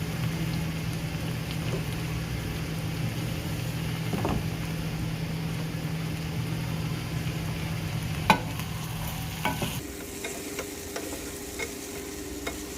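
Okra frying in a pan gives a steady sizzle while a spoon stirs it, with a few sharp scrapes and clicks against the pan, and the tone shifts near the end.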